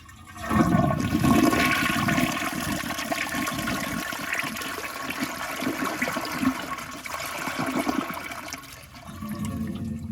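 A Jacuzzi Perfecta toilet flushes with a loud swirling rush of water that starts abruptly, churns steadily for several seconds, then eases into a quieter refill trickle.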